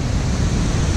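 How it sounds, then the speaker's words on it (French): Steady rushing water of a mountain torrent beside a trail in Nepal, a dense continuous roar with strong low rumble, close and unbroken, no voices. "On suit un torrent."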